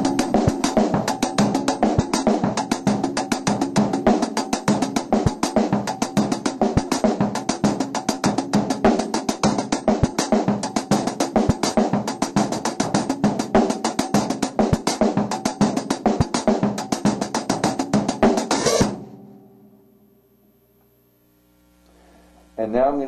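Drum kit groove, a 5/8 bar pattern played over and over with shifting turnarounds; dense, steady playing at even loudness for about nineteen seconds, then it stops and the room goes quiet.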